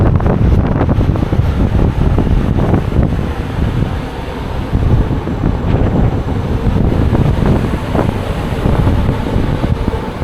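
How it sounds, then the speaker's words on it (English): Strong wind blows across the open deck of a Brittany Ferries ship sailing from Saint-Malo, a loud continuous buffeting roar on the microphone with a faint wash of sea beneath and no talking. "my gosh, it's breezy out there"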